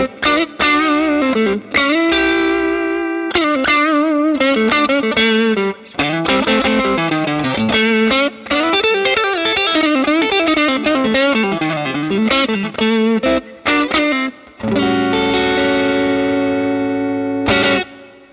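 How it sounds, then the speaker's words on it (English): Electric guitar through a Scream 808 tube-screamer-style drive on a Line 6 Helix LT plays a loud, mildly overdriven blues line of bends and sustained notes with brief pauses. "Right here I've also got a Scream 808, which is kind of a tube screamer vibe."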